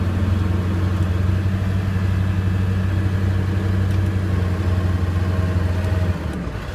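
A Ford 7.3 Powerstroke diesel truck engine runs at a steady, loud rumble held up by a bar on the throttle, droning evenly throughout before easing slightly near the end.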